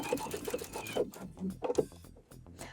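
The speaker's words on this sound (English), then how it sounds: "So we're sewing down the seam allowance to that lining piece 1/8 of an inch away from the seam." A sewing machine stitches a slipper's seam allowance down to its lining in short bursts of quick mechanical chatter. The pauses between bursts are brief, and the sound is close and fairly quiet.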